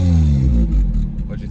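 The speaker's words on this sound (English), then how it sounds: "And as you can tell, Dildar loves exhaust sounds, right?" A short burst of four-cylinder car engine exhaust roars loudly, then falls off into a rough, rumbling idle.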